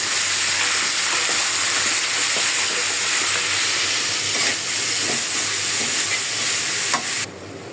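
Spices sautéed with prawns and jackfruit in a pan, a loud dense frying hiss and sizzle held throughout with faint scraping stirs, dropping suddenly near the end.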